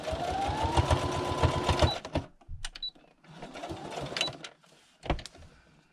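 Sewing machine stitching through paper pages of a handmade traveller's notebook, its presser foot catching on a rosette; rapid close stitching runs about two seconds, then shorter bursts start and stop with pauses between.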